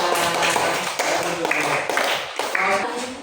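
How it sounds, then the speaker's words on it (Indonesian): A group of schoolchildren in a third-grade classroom claps in quick, uneven bursts, with voices chattering over the clapping. "Kita tepuk tangan buat kelompok rumah"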